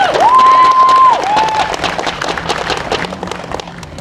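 A crowd at an anti-racism protest in Elk Grove, California applauds, clapping and cheering in a burst that starts loud and fades over a few seconds, with a whistle-like tone at the start.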